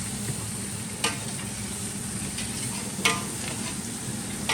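Onions and tomatoes frying in a pan for chicken biryani, a steady close sizzle with two sharp scrapes of a spoon stirring, no talking.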